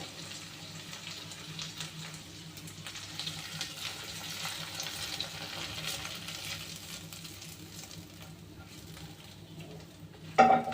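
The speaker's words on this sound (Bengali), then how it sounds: "এখন আমি এটাকে মাংসের ভিতর ঢেলে দেবো" Ready-mix kala bhuna spice liquid is poured into beef cooking in a pot, making a steady moderate wash of pouring and simmering sizzle with no talking, ending in a short sharp clatter.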